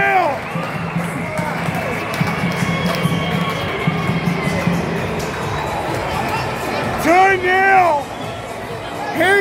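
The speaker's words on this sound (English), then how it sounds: "And everyone else is cheering on as well!" A football crowd cheers and roars after a goal between Newcastle Jets and Western United, a broad sustained stadium din with shouting voices rising over it and a commentator talking excitedly.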